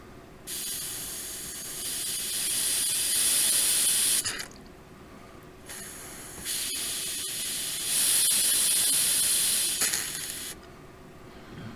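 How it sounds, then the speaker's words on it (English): Compressed air hisses into the clutch slave cylinder of a Cummins-swapped Excursion in two long, loud blasts of about four seconds each, separated by a short pause, with no talking. "I'm going to put just a little bit of compressed air"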